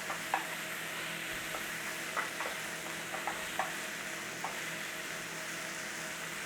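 A chopped onion and garlic mix cooks gently over a low flame in a pan, giving a steady soft sizzle with occasional small pops and faint stirring clicks throughout.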